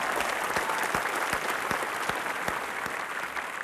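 Audience applauding students at a school competition, a dense, lively round of clapping from many people, fairly loud and sustained, with individual claps punching through the steady roar.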